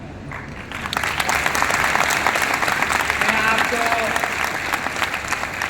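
An audience at a founders' day event of a trust breaks into sustained applause, loud and dense, with a speaker's voice heard briefly over it.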